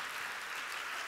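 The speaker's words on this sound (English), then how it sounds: "Oh, I got a little clap." Short scattered audience applause during a talk at the re:publica 2016 conference, a quick, moderately faint patter of clapping lasting about a second with no voice over it.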